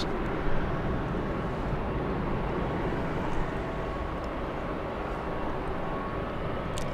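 A Boeing 777-300ER takes off from LAX, its engines a steady, loud broadband roar that holds without a break, heard from a distance with no voices over it.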